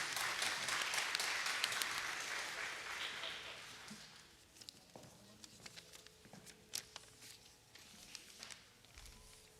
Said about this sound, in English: Let us give a big applause to Aruna Chandra